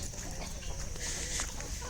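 Chickens on a farm cluck close by in short, busy bursts, with a low rumble of ambient noise underneath and no clear talk.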